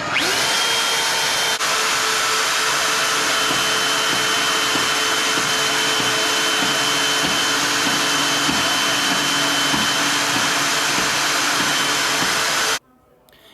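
Portable bandsaw mounted upright as a tabletop bandsaw runs continuously and loud with a steady motor whine and buzzing hum for about thirteen seconds, then cuts off abruptly.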